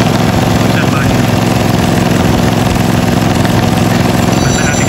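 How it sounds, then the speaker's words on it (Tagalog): A car's auxiliary radiator fan motor, worn and vibrating badly, runs with a loud, constant whirring drone and buzzing rattle, close by and unbroken for the whole stretch. "masyado na siyang ma-vibrate. Papalitan natin siya ng auxiliary fan motor."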